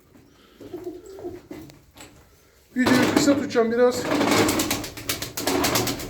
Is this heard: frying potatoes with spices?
no